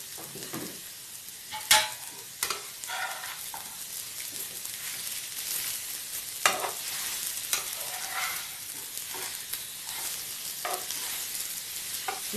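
Brinjal pieces fry with masala in a pan on a small stove over low flame, a soft continuous sizzle broken by sharp scraping clicks of stirring at irregular intervals.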